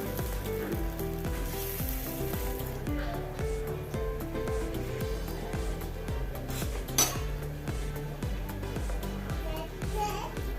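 Tomato dosa batter sizzling on a hot pan, a soft continuous sizzle beneath rhythmic background music, with a single sharp metallic clink from a utensil partway through.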